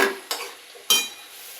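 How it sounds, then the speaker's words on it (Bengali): Potatoes and prawns being sautéed and stirred in a pan for a potol chingri dish, with two clear scraping stirs of the spoon over a soft, steady sizzle. "আলু কষাটা চলছে।"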